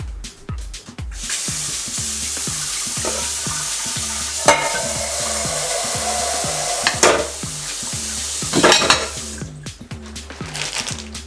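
Sausage frying in a pan on a stovetop, a steady close sizzle running throughout with spoon stirring, scraping and a few clinks of pans and utensils, no talking.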